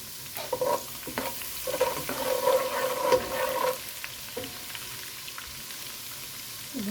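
Chopped onion dropped into hot oil with garlic for restaurant-style chicken Manchurian, frying with a moderate sizzle and stirring clatter that swells for a few seconds and then settles into a quieter steady fry.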